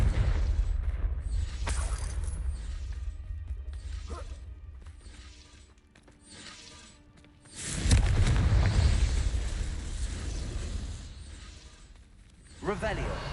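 In Hogwarts Legacy, a Confringo fire spell goes off in a loud, sudden burst with rumbling debris that fades over several seconds. Game ambience and a shouted incantation surround it.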